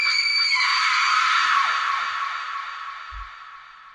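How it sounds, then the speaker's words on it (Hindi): A woman's high, piercing horror scream, loud and sustained for over a second before slowly fading away, heard alone with a brief low thump near the end. "And just in a blink of I she started screaming."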